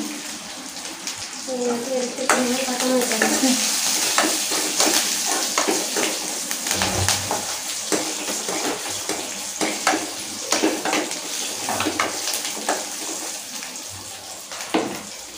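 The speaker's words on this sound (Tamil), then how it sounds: "நல்லா கடுகு நல்லா பொரிஞ்ச பிறகு வரமிளகாவும் பச்சை மிளகாவும் நான் கிள்ளி வச்சுருக்கேன், அதையும் சேர்த்துக்காங்க." Mustard seeds with red and green chillies sizzle in oil while tempering, a loud close hiss with sharp pops and spatters running throughout, beneath someone talking.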